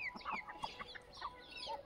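Desi hens, including Kadaknath and Teni crosses kept for eggs, clucking in a farmyard: a run of short, close clucks and soft calls over light outdoor background noise.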